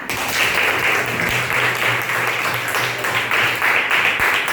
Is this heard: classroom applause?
yes